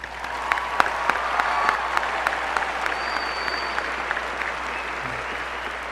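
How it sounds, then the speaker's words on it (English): A graduation ceremony crowd applauds in a large hall, a dense, steady wash of many hands clapping at once with a few sharper nearby claps on top. "So let's give us a big round of applause."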